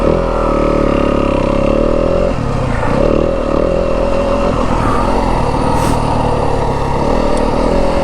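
A 2025 Yamaha WR250F dirt bike ridden through the Arizona desert, its engine droning and revving up and down close by as the ride goes on, with faint clattering over rough ground and no voices.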